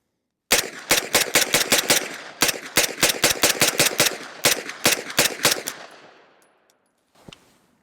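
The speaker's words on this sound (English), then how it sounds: "That roller delayed system for the MP5 is one of the more smooth shooting firearms" MP5 roller-delayed submachine gun firing outdoors: loud, close bursts of rapid shots in a quick staccato rhythm over several seconds, each crack trailing off into echo, then a single distant pop after a pause.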